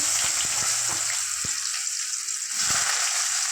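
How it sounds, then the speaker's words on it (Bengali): Long eggplant slices fry in a pan, producing a loud, continuous hiss of hot oil with a few soft knocks of a utensil near the start and middle. "আলাদা করে বেগুনটা ভেজে দেবো যেহেতু বেগুন নরম গলে যায় তার জন্য আমি ভেজে তুলে নিচ্ছি"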